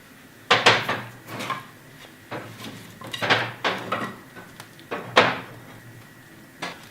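Pine logs being loaded into a wood cook stove, with several sharp knocks and clunks of wood and the metal firebox door in irregular bursts, close and moderately loud.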